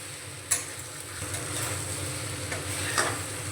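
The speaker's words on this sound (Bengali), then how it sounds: "এঁচোড় আর আলুটাকে মাংস যেভাবে ঠিক কষানো হয় সেইভাবে আমি কষিয়ে নেব" Raw jackfruit and potato sautéed with spices in a pan, a steady sizzle beneath occasional scraping stirs and spatula knocks, close and moderately loud.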